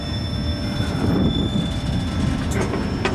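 A CSX manifest freight train rolls past at close range, a steady loud low rumble of wheels and cars with faint metallic squeals and clicks over the top, no talking.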